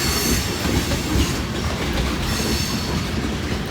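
Loaded freight railroad cars roll past southbound near Hamilton, a steady loud rumble of wheels with faint clickety-clack and occasional high squeal, continuous throughout.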